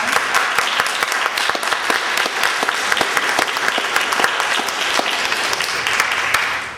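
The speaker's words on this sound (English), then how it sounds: "So let's give everyone a round of applause." An audience at a Medicare Part D community meeting gives a round of applause for speakers and co-sponsors, dense continuous clapping at close range with crisp individual claps, fading slightly at the very end.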